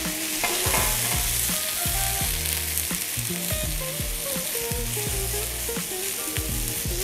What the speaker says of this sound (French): Prenez soin de bien colorer la viande sur toutes les faces.